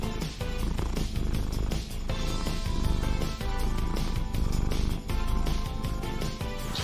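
A pet cat purrs close up, a steady rumbling purr with rhythmic breathing pulses that runs continuously and fairly loud, with no other sounds.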